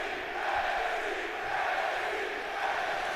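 Steady roar of a large arena crowd cheering at a WWE 2K20 wrestling video game NXT show, a continuous wash of massed voices at even loudness with no talking over it.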